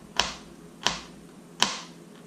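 A knife crunches through crisp pickles on a cutting board: three sharp, separate cuts at a steady pace, close and clear, with no talking.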